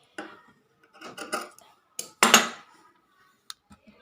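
Scissors snipping cloth while cutting pieces for a handmade baby cap, a few short crisp cuts and rustles close by, alone without talk.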